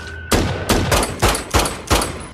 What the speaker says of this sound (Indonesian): Tapi sialnya Kenny harus terkena headshot, begitu juga dengan Hammond yang tertembak di bagian perut